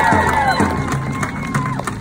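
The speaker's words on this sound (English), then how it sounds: "Give yourself a cheer" A crowd at a UNISON climate rally cheers and whoops, scattered voices and claps swelling under a near voice at the start before fading.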